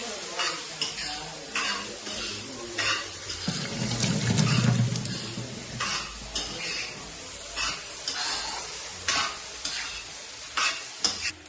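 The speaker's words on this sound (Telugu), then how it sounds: "ఇంకా అల్లం వెల్లుల్లి వేసి ఇంకా అయితే మొత్తం అయితే కలిపేస్తున్నారు. మొత్తం ఫ్రై చేసేస్తున్నారు." Ginger and garlic fry with noodles in a pan, giving a loud, close sizzle with repeated rhythmic scraping stirs and utensil clanks, and a brief low rumble partway through.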